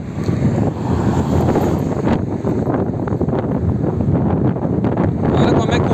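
Wind buffeting and shaking a small Fimi X8 Mini drone outdoors, producing steady broadband rumble and gusty roar throughout, loud and continuous with faint intermittent crackles.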